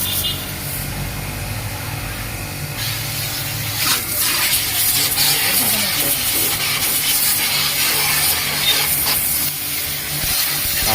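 A high pressure washer spraying a car gives a steady hiss of water with bursts of louder spray and splashing against the bodywork, close and continuous, with a low motor hum underneath.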